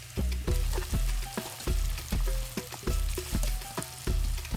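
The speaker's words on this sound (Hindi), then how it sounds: "उसमें प्याज ब्राउन कर लें।" Onions brown in hot oil in a large cooking pot for haleem, sizzling loudly in close, repeated bursts as a spoon stirs them at a steady rhythm.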